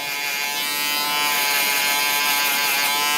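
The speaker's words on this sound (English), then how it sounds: "we're gonna go in with the foil shaver. We're gonna go against the grain all over" Foil shaver buzzing steadily against the grain over a client's hair during a mid skin fade, a close, continuous high electric drone with no talk.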